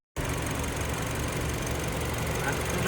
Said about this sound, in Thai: ฟังเสียงเครื่องยนต์